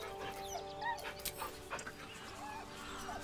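In the video game Baldur's Gate 3, a dog whimpers nervously with a series of high, wavering whines and soft yips over a quiet musical background.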